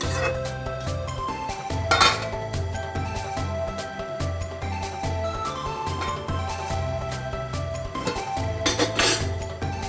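Metal cookware clinks and clatters as a lid goes onto a pot of bottle gourd halwa, with repeated scraping and clanks over soft kitchen background music.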